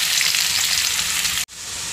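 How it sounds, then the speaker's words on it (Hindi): Onions frying in hot oil in a kadhai give a loud, steady sizzle that cuts out abruptly for an instant and then resumes. "ये देखिए, मैंने तेल में कांदे डाल दी हूँ।"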